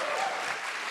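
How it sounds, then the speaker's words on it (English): Light, lukewarm audience applause with scattered clapping, steady and fairly faint for a brief moment, under a soft room hiss. "that was tepid applause"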